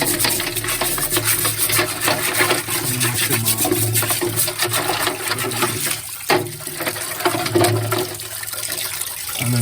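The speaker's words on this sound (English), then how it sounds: "So put the salt water in it." Salt water pours into a cooking pot in a Jamaican home kitchen where fish and vegetables are being prepared, a steady close splashing gush that runs for the whole stretch without talk.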